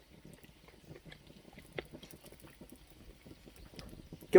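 Someone chews a piece of pork belly fat with bristles still on it, soft wet mastication and faint crunching close to the mic in a quiet room.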